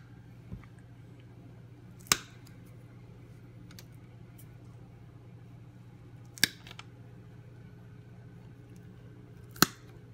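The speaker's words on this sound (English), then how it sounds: "Then I got some wire snippers. Pretty good for snipping bamboo shoots." Wire snippers cut through bamboo skewers while preparing bacon-wrapped goose poppers: three sharp, isolated snips spaced a few seconds apart, close and crisp over a low steady background hum.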